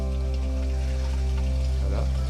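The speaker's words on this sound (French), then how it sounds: "Là j'entends le moteur qui commence à monter un petit peu." A koi pond pump motor hums steadily with a strong low drone and tonal whine, rising slightly near the end, over a faint trickle of water.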